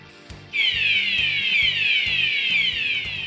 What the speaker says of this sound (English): Emergency shall be notified by a wailing siren.